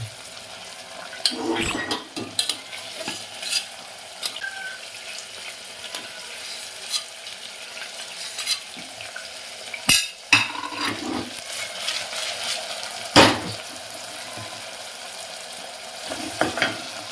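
Capsicum and mixed vegetables stir-fried in a pan for vegetable pulao, with a steady sizzle and intermittent sharp spatula scrapes and clinks against the pan.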